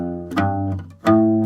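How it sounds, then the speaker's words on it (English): Acoustic-toned guitar plays low pickup notes on the sixth string, the walking bass line opening of a song: a couple of sustained plucked low notes, close and clear, with no talk. "if I was going to count in and then play the pickup measure, it would sound something like this"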